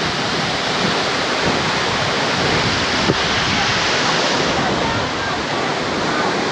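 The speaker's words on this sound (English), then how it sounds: "This is the closest point to the waterfalls." Waterfall seen from its closest viewpoint, a steady, loud broadband roar of rushing water that holds constant and close throughout.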